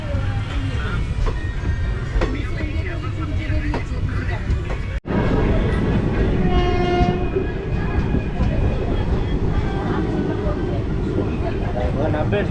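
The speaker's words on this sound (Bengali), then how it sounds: "মোটামুটি ট্রেনটা চলছে নর্মালি চলছে" Rumbling of the 13017 Ganadevta Express passenger train in motion, a steady loud on-board roar with rail clatter throughout, a brief dropout midway, and faint talk mixed in.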